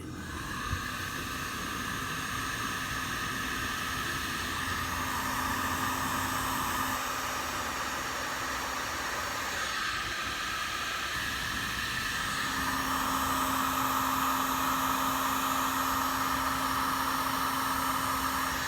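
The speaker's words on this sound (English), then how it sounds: "I like to use a heat gun so you don't burn it." A heat gun blows steadily for the whole stretch, shrinking heat shrink tubing over a wiring connection for headlights on a Jacobsen Chief garden tractor; a continuous close, loud airy hiss with a faint hum, its tone shifting slightly as the gun moves.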